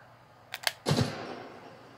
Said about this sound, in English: Let me not shoot at him. Let me shoot over here.